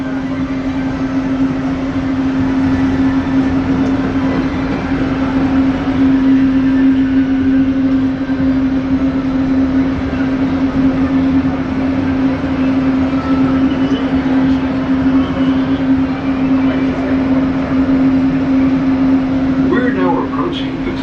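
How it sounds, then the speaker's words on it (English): Disneyland monorail train gliding along its track, a steady loud hum with a sustained whine and rumble throughout, with faint background chatter from passengers inside the car. "Please remain seated until the monorail comes to a complete stop."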